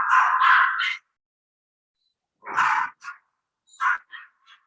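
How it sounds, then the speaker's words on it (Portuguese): A dog barks near a hotel, close and loud: one long burst of barking, a pause, then several shorter yips and barks trailing off into silence. "Tá um barulho aqui de cão que eu tô no hotel"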